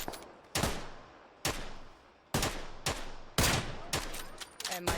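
Rapid gunfire from a shooter video game comes in several sharp bursts spaced about a second apart, each loud and decaying quickly, with no talking.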